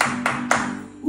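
Two sharp hand claps about a quarter second apart, close and fairly loud, keeping time in a Hebrew children's clapping song, with a low hum underneath.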